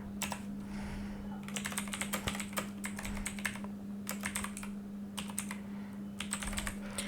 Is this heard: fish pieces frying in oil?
no